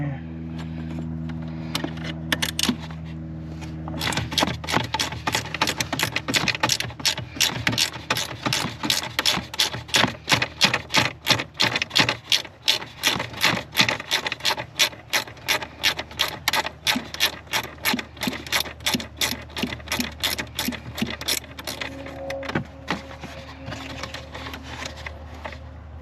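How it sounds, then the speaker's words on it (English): An 8mm ratcheting wrench works on an OBD2 port bracket, making a long run of rapid, evenly spaced ratchet clicks close by, with a low hum at the start and end. "to do that, you need an 8mm ratcheting wrench"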